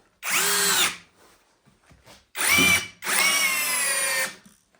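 Cordless brushless drill (Eltos DA-16 BL) driving a 100 mm screw at second speed: three loud whirring bursts, a short one, a pause, then two longer back-to-back runs, close up and without speech.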